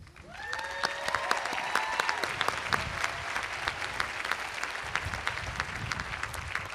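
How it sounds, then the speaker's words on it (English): Steady, full applause from a commencement audience honoring non-traditional age college students, dense clapping that holds evenly throughout, with a few tonal bell-like notes near the start. "we thank you and applaud you"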